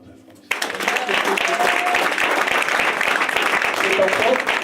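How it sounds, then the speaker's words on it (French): A church congregation applauds loudly and steadily after a brief quiet lead-in, the clapping dense and continuous to the end. "Acclame très fort."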